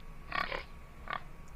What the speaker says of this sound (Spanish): ¿Recuerdas el sonido que hacía el chancho?